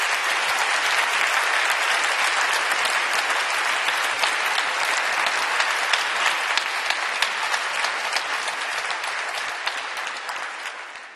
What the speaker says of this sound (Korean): 그럼 장로님 나오실 때 큰 박수로 환영해 주시면 감사하겠습니다.